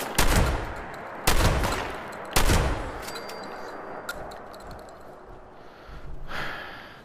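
Rifle fire from a level 50 Rotflinte in Fallout 76: three loud, sharp shots spaced about a second apart, each trailing off into a decaying echo, followed by quieter ambient noise and a soft whoosh near the end.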